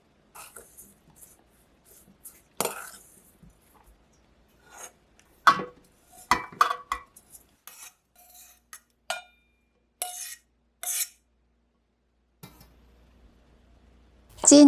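Ingredients with salt, pepper and perilla oil are tossed and mixed in a mixing bowl, giving scattered scraping, rubbing and light clinking strokes with quiet gaps between them, close and fairly faint, with no talking.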